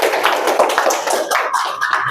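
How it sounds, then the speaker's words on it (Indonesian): Students clap for a student group in a vocational school classroom, a dense, steady round of applause that fills the whole moment at close range. "Boleh duduk, tepuk tangan untuk kelompok Suryana."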